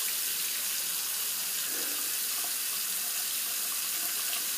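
Tap water runs steadily into a sink while someone rinses soap off their face, a close, even, hissing splash that continues without a break from start to finish.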